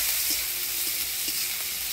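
Chopped green chilli frying in a pan with onion and tempering of dried red chilli and nigella seeds, a steady close hiss of sizzling oil with a few soft stirring knocks, no voices.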